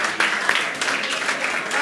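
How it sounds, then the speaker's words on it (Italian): Applause fills a hall at a rowing club's Christmas sports awards ceremony in Rome, a dense, steady clapping from a crowd that carries on without a break. "Un grande applauso, grazie."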